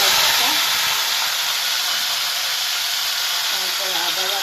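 Onion paste dropped into hot oil in a pan gives a loud, steady steamy hiss that stays fairly even throughout, with faint clatter underneath.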